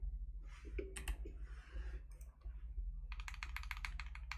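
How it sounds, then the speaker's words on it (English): Spacebar of a custom gasket-mounted mechanical keyboard with spacebar foam being tapped, soft close clacks at first, then a quick rhythmic run of keystrokes over a low steady hum. "Spacebar sounds, yeah,"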